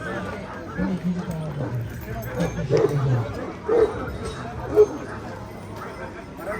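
Dog, a Bully Kutta, barking a few separate times at a moderate distance, short single barks spaced about a second apart, under ongoing men's conversation outdoors.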